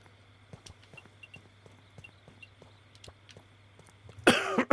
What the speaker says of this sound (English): Sorry for my cough today, folks.